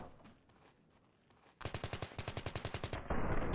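Rapid automatic gunfire in RavenField's D-Day defense battle, a quieter stretch giving way to loud, evenly spaced bursts of machine-gun shots, then a sustained heavy roar of fire.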